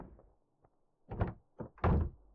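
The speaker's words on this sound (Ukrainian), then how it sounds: "Закрий двері за собою." A door closes inside a horror video game, heard as a couple of dull thunks with a muffled knock before them, fairly close and with no talk over it.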